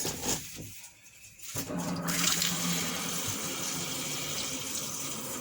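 Water running from a tap into a bottle being filled to the top, a steady hissing gush that briefly dips and then continues evenly, close and fairly loud.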